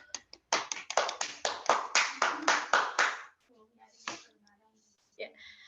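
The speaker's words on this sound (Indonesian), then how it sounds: "Berikan aplaus dulu." A small audience at a teachers' workshop claps in a short burst of about three seconds, close and crisp, then stops, followed by a few scattered taps and a brief spoken word.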